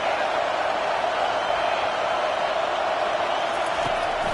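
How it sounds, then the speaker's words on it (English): Loud, dense roar of a football stadium crowd at a college game against Florida, a steady wall of cheering and noise swelling continuously throughout. "this crowd is turning it up a notch"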